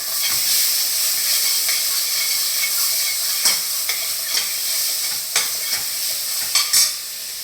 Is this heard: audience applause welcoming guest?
no